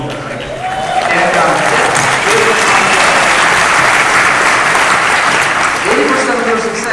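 Seminar audience applauds loudly and steadily, a dense sustained clapping that swells in after a moment and fills the room, with speech faintly under it.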